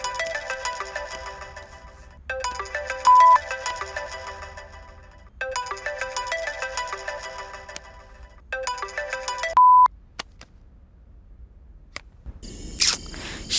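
A mobile phone ringtone plays a repeating melodic pattern in four bursts with short pauses between them. It rings loudly and alone, with no voices, and cuts off near the end.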